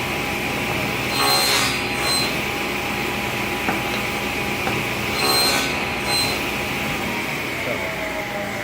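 A table saw in a woodworking class cuts wood: a steady high-pitched machine whine with two brief louder cutting bursts, spaced a few seconds apart.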